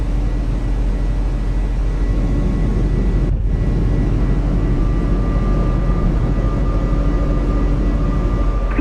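An IniBuilds A300-600R airliner taking off in Microsoft Flight Simulator, its engines giving a loud, constant roar with a steady whine that holds throughout, broken only by a momentary dip partway through.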